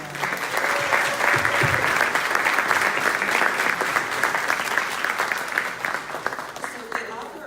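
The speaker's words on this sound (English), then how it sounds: "Let's give them a round of applause." Church congregation at a Sunday service applauds teachers standing in the room, steady clapping that carries on for several seconds with some voices mixed in.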